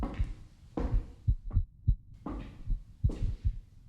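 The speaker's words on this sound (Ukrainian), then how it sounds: "Що це за серцебиття у нас таке?" Heartbeat in a horror video game set in a basement: deep, paired thumps beating in a steady rhythm, loud and close, with nothing else over them.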